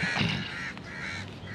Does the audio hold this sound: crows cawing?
yes